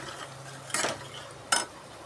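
Spices being stirred into a pan of cooking palak paneer masala, with two short scraping strokes of a spoon against the pan over a faint low background hum.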